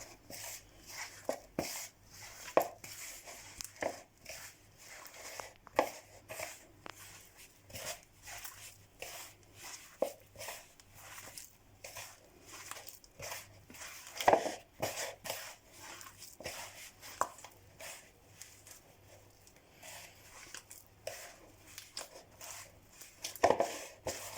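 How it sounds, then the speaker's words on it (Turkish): Butter being worked into powdered sugar by hand for crumbly Turkish flour cookie dough, a long run of soft, irregular squishing and rubbing sounds close up, with no voice. "pudra şekerinden yağımızı güzelce kavuşturacağız."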